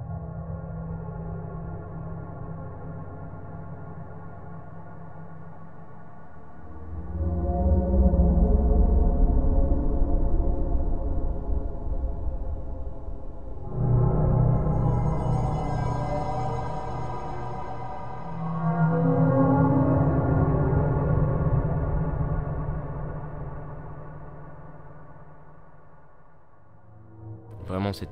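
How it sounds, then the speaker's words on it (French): A dark, looping Five Nights at Freddy's ambience drone with a metallic, resonant hum that swells and recedes in slow waves, sustained and moody. "C'est le long bruit métallique qui se répète sans cesse,"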